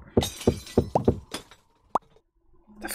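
Blocks breaking in a Minecraft-like game, with several quick crisp crunches in a row and then a single higher glassy crack, close and clear, followed by quiet.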